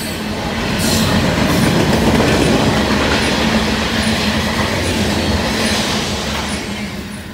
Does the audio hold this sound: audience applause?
no